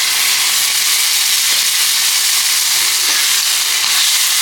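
Curry meat fries with sautéed onions in a pan, giving a loud, steady, close sizzle with faint stirring scrapes and no talking.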